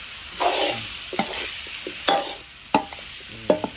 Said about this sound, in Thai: คนเข้ากันเลยครับ